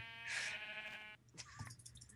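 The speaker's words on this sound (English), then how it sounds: "There's a sheep." A sheep bleats in the Minecraft video game, one clear drawn-out bleat up front followed by a softer, shorter bleat, heard alone without talk.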